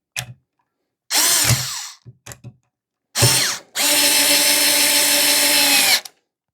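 A Parkside Rapidfire 2.2 mini 4-volt cordless screwdriver drives a screw, with short whirring bursts and then one long, steady spin under load, each run ending abruptly, close up.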